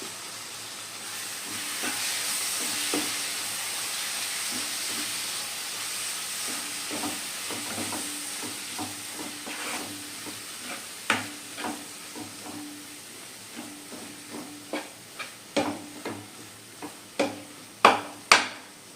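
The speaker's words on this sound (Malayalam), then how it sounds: "ഒരു തക്കാളി അരച്ചത് ചേർത്ത് കൊടുക്കാം അത് നന്നായിട്ടൊന്ന് മിക്സ് ചെയ്ത് കൊടുക്കാം" Ground tomato is stirred into hot spiced oil in a frying pan for a chicken dish: a steady soft sizzle and hiss runs throughout, with scraping stirs growing into sharper, louder knocks toward the end, and no voices.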